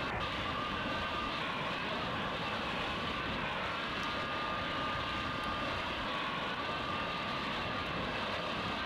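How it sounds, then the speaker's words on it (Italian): A British Airways airliner arrives in Microsoft Flight Simulator X on an approach toward Bari or Catania, its engines making a loud, steady, broadband roar that holds evenly throughout with no voices. "Sta arrivando il British Airways."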